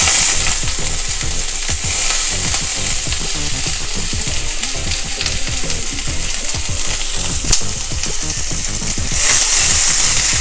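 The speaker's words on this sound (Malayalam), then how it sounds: "സവാള ചേർത്തൊന്ന് ഇളക്കി കൊടുക്കുക." Half a chopped onion stir-fries in hot oil in a pan for Kerala-style beetroot stir fry, producing a loud, dense, continuous crackling sizzle with constant stirring scrapes close up, and no voices.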